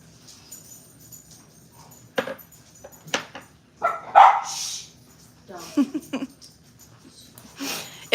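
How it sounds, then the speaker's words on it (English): Dogs bark in short scattered bursts at moderate distance, several separate woofs and yips over a few seconds, with faint background noise and occasional talk mixed in. "If the dogs start to get loud,"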